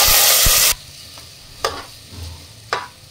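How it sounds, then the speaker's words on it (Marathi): Rice being sautéed in a pot for chicken dum biryani, a loud burst of sizzling at first, then quieter stirring with a few sharp scrapes of the spoon against the pot, close by, with no talking. "तांदूळ चांगला परतून घ्यायचा आहे"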